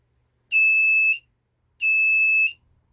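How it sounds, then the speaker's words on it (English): Alarm of a DIY breathalyser soldering kit sounding as two shrill, steady electronic beeps, each lasting under a second, separated by a short silence, close and clear. "That was set right on the cusp of the alarm."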